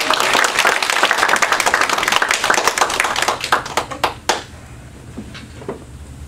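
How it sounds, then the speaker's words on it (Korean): A church congregation claps together to welcome a missionary, loud and dense hand clapping that thins into a few scattered claps after about four seconds and gives way to quiet room sound. "나오실 때 우리 박수로 우리 맞이하도록 하겠습니다."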